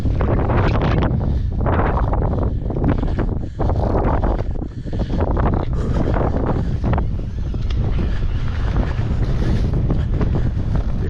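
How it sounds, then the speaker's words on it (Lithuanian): Heavy wind buffeting the microphone on Holyhead Mountain on Anglesey during a mountain bike ride, a loud continuous roar with gusty surges and brief lulls throughout. "Tikai vėjas."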